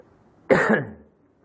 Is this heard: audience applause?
no